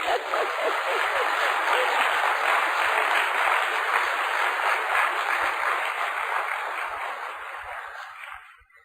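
An audience claps together in a dense, sustained wash of applause that holds steady for several seconds before gradually fading out, with no talking over it.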